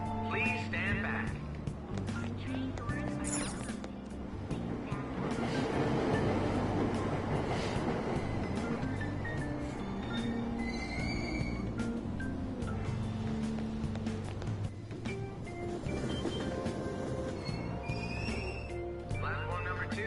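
A subway train departing in Persona 5, with rumbling car noise and rhythmic clatter building and fading under a steady rail drone, station chimes and an automated announcement voice heard over the running train.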